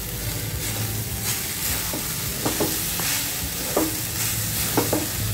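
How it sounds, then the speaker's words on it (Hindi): Grated coconut lightly roasting in a tablespoon of ghee in a kadhai, a constant frying hiss with repeated scraping stir strokes, close and without voices. "घी में नारियल को हल्का रोस्ट कर लेंगे।"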